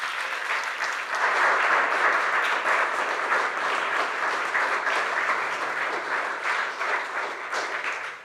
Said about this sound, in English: I'm inviting everyone to give them a round of applause.